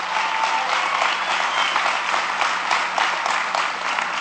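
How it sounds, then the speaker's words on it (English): Sustained crowd applause at a political speech, a thick, even roar of many hands clapping throughout, loud and unbroken with no voices on top. "It's a lot less applause than it was 5 minutes ago"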